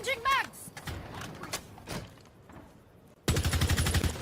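Rainbow Six Siege gameplay, first a few mechanical magazine-change clicks and scattered sounds, then a loud, rapid burst of automatic gunfire at the end.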